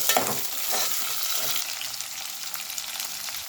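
Moringa drumsticks hit hot oil in a frying pan with onions, giving a bright crackling sizzle that bursts loud at first and then settles into a steady hiss with some stirring.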